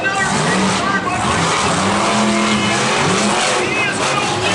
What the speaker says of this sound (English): your final round of your side-by-side monster truck racing